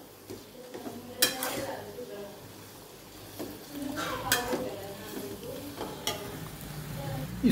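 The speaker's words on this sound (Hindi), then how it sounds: "इसको तेल में फ्राई करना है" Lemon pickle ingredients frying in oil, a steady sizzle with repeated stirring scrapes and clinks of a utensil against the pan, close and continuous, while someone talks over it.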